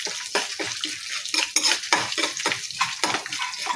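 Curry leaves and a couple of green chillies fry in a pan, with a steady run of close, rhythmic spatula scrapes and clinks against the metal and only a light sizzle underneath.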